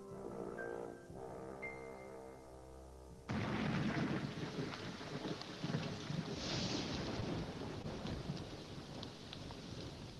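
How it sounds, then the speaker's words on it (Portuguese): A thunderstorm of the kind soldiers slept through on the eve of a battle: after a few seconds of tonal background, a sudden loud burst of rain and rumbling thunder takes over and continues as a dense, roaring wash. "os soldados dos dois lados dormiram como puderam debaixo de uma tempestade"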